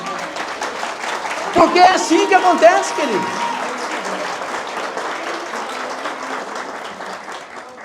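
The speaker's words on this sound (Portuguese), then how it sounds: "Você pode aplaudir o Senhor por isso?" A church congregation applauds in a broad, steady wash of clapping while a preacher speaks over it, the applause holding through the whole stretch and easing slightly at the close.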